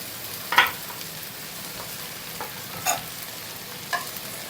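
Okra (bhindi) frying in a pan, with a soft steady sizzle broken by three separate scraping stirs of a spatula.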